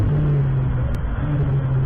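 A GT race car engine drones steadily at Road Atlanta after recovering from an issue, a loud, continuous mechanical rumble with a sustained low tone and no clear rise in pitch.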